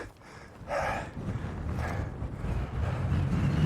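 Gusty, cold wind buffets the microphone in uneven, roaring pulses at a mountain summit cairn in Glacier National Park, Montana, steady and fairly loud throughout with no voices.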